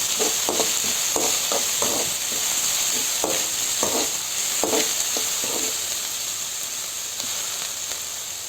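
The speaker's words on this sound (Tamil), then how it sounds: "வெங்காயம் நல்லா வணங்கட்டும்" Onions with rock salt sizzle steadily in a hot pan, a constant bright hiss broken by short rhythmic scraping strokes of a spatula, close and without talk.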